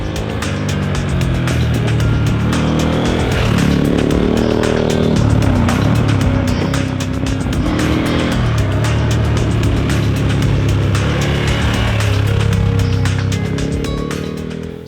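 A KTM Super Adventure S motorcycle rides along roads in Corsica, its engine a loud, continuous close roar whose pitch rises and falls with throttle and gear changes over about fifteen seconds, with strong wind rush and no talking.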